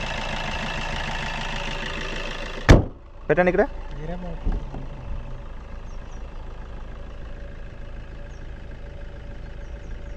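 A Maruti Suzuki Nexa S-Cross diesel engine idles with the bonnet open, a steady low hum throughout, interrupted by a sharp thud and brief clatter near the start; a voice speaks briefly over it.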